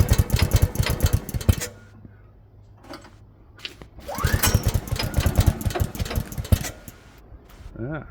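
A vintage Atco Balmoral lawnmower engine is cranked and fails to start, giving two bursts of rapid chugging turnover separated by a pause, with someone talking between the attempts.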